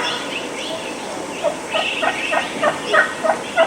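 A wild turkey gobbles in a string of sharp, rhythmic bursts while attacking a hunting decoy in spring, several loud calls close together over a quiet outdoor background.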